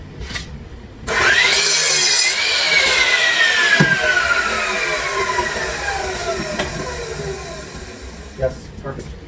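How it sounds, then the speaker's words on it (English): Hand saw with a dull blade trimming a wooden board for a DIY computer desk, one sustained rasping cut of several seconds, close and fairly loud, with a brief knock near the end. "try to trim it with this dull blade"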